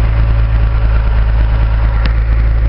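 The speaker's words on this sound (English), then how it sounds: "You can hear the pump." A Dodge Sweptline truck's power steering pump whines steadily over a low, rumbling engine idle, loud and close, with a single brief click near the end.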